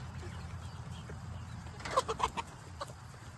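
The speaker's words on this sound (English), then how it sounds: "Get the chicken, buddy." A chicken gives a short burst of clucks midway, a few close, sharp calls over a constant low rumble of rain or background noise.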